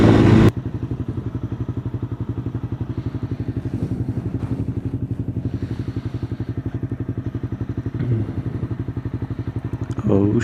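A motorcycle on a commute, its engine droning in a steady, close, pulsing throb for the whole ride, with a few louder surges and bumps near the end.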